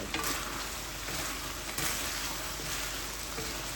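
Broad green beans with miso sizzle and fry in a pan, a steady close crackle with faint stirring knocks and no talking.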